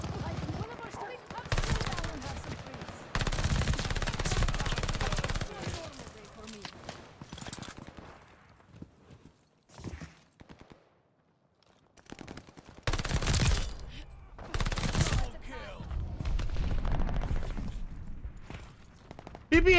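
A PPSh-41 submachine gun fires in Call of Duty Vanguard gameplay in several rapid, loud bursts separated by quieter gaps. Footsteps and someone talking can be heard between the bursts.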